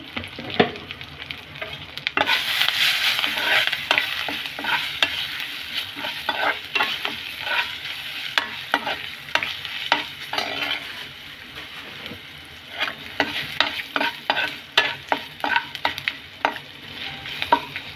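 Tempering spices with turmeric sizzle in oil for cucumber chutney, with a steady close frying crackle broken by repeated sharp scrapes and clinks of a spoon stirring the pan.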